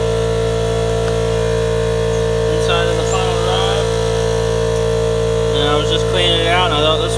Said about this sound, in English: Sorry about the loud air compressor.